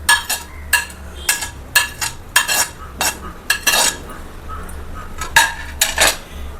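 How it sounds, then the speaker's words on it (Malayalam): A spoon stirs sago and beetroot payasam in a metal pot, clinking sharply against the sides in a fast irregular rhythm of scrapes and knocks, close and loud with nothing else over it. "ഇനി നന്നായിട്ട് ഒന്ന് ഇളക്കി കൊടുക്കുക"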